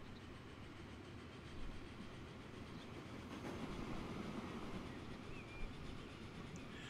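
Trains run across a rail network in Transport Fever 2, giving a steady, distant rumble of rolling wagons with faint clickety-clack, unbroken throughout and with no voices.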